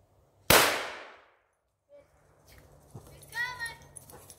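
A single sharp shotgun blast during a woodland squirrel hunt, loud and close, with a decaying tail, followed by faint rustling and a few metallic clinks.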